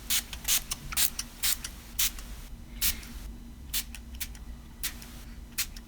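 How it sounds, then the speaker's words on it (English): Repeated short bursts of spray from a pump bottle, about a dozen quick hissing squirts in an uneven rhythm, close and fairly loud. "So I've put a fair amount of the spray on, probably more than need be."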